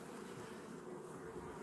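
Honeybees drone steadily at an open hive during an inspection, a close, continuous buzz with no talking.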